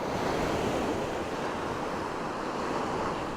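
Steady roar of surf breaking on a winter beach in Australia, continuous and broadband with wind buffeting the microphone, no voices.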